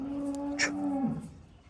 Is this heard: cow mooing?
yes